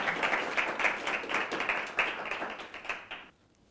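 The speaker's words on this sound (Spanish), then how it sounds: "Muchas gracias, un aplauso" Audience applause at a Madrid digital-ideas panel event: a short burst of brisk, fairly close clapping from a modest crowd that fades out abruptly near the end, leaving quiet.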